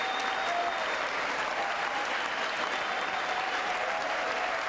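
Sustained applause from the audience at a State of the Union address, a dense, even wash of clapping from a large crowd, heard alone at steady loudness throughout.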